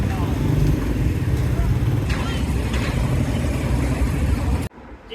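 A motorcycle engine idles and runs at a petrol pump by the roadside, a steady broadband rumble with passing traffic noise that carries through most of the clip before cutting off abruptly near the end.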